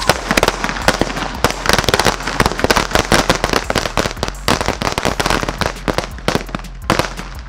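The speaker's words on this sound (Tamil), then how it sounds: "இந்த இப்போ நம்ம சரவெடியை வச்சு ஓட்ட போகிறோம்" A long string of saravedi firecrackers bursts in rapid, irregular crackling pops, loud and close, with dense overlapping bangs throughout and no talk.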